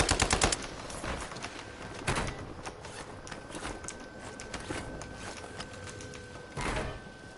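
Warzone gunfire: a rapid automatic burst at the start, then scattered quieter shots and later another short burst, over game ambience without speech.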